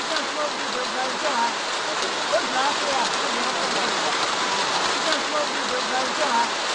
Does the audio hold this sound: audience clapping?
no